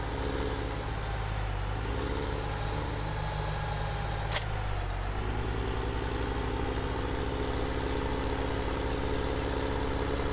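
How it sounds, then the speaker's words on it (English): Tractor engine in the Farming Simulator 17 video game drones steadily while pulling a loaded trailer uphill, a constant low rumbling hum at even volume throughout with no talking. "We'll see if this tractor can pull it up the hill and down the hill."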